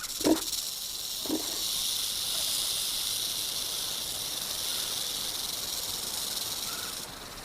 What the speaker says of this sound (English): the rattle is one of the most effective defenses in nature, giving fair warning in plenty of time